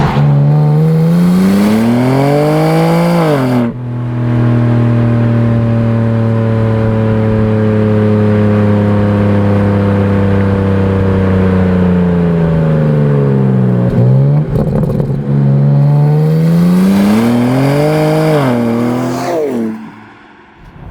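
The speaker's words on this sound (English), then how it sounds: "The inline-six turbocharged motors just don't ever sound good." A 2023 BMW M2's turbocharged inline-six engine revs up and holds a loud, steady drone, then drops and rises again in a second rev, close and without talk.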